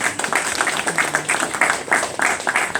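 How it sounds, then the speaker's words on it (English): A small group at a farewell gathering on an offshore gas platform gives a short burst of steady, close hand clapping. "give him a big round of applause"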